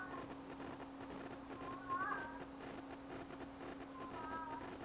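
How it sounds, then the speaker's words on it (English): A cat meows a few times, faint and somewhat distant, over a steady electrical hum and low background noise in an electronics workshop. "cat's making a noise"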